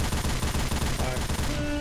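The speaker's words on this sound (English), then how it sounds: "I'm on the machine gun." Rapid machine gun fire in Left 4 Dead 2, a dense, loud burst of repeating shots filling the whole moment with chaotic game noise behind it.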